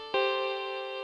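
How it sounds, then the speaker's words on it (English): A glassy keys synth patch from a free retro Serum pack strikes one bright chord with a crisp attack. The bright, shimmering chord then rings on steadily and slowly fades. "this glassy keys patch"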